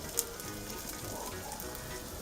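Open pelmeni dumplings sizzle quietly in a hot pan over a campfire, a soft, even crackle that holds steady throughout.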